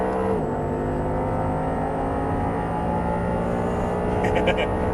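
An Audi R8 pulls hard on a race track, its engine holding a loud, steady droning note that climbs slightly as it accelerates, while a driving instructor talks over it.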